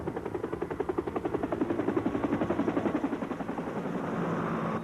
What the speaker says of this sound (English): Maybe if they had helicopters.